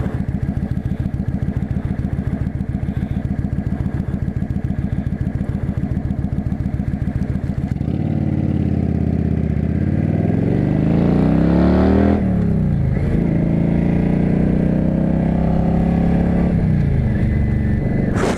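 Motorcycle engine idling with a steady rhythmic chug, then revving and pulling away as the pitch climbs and shifts through gears, loud and close throughout.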